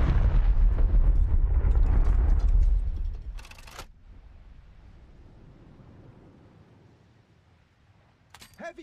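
Naval shell explosions strike an enemy ship in the War Thunder Mobile game, a loud, dense blast roar filling the first three seconds, then fading to a low rumbling tail with a brief crackle near the end.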